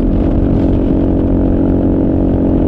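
Kawasaki KLR motorcycle engine cruising at about 80 mph and 5,500 RPM on the highway, a steady, loud, even drone with wind noise and no pause.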